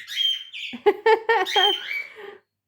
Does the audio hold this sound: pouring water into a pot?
no